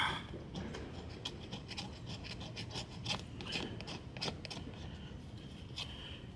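A cheap, dull knife is sharpened with a steady series of faint rasping strokes, grinding repeatedly at close range with no talk.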